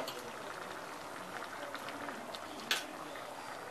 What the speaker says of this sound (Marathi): मस्त उकळी आलेली आहे।